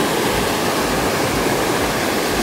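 A swollen stream after overnight rain at Ladies Well, Australia, roars in a loud, dense, unbroken rush of water close by.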